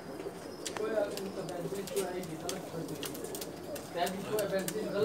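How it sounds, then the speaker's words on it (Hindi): Sialkoti pigeons coo in low, repeated murmurs close by, mixed with soft chirps and a steady background hum, while a person talks over them. "बहुत ही प्यारा कबूतर है जी।"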